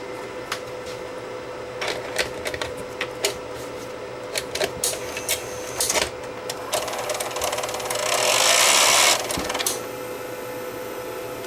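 A tape deck mechanism runs with its tape spool turning, giving irregular clicks and clunks close up, then a louder whirring hiss swells for a couple of seconds before settling back.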